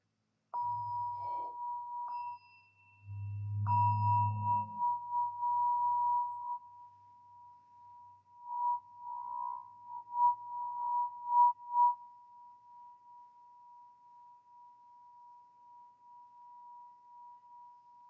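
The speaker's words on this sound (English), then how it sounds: "enjoying the sound of the Tibetan singing bowl as we focus on the breath" A Tibetan singing bowl rings with a steady sustained tone that hums on and slowly fades, with a few soft low thumps early on, used during a guided breathing exercise.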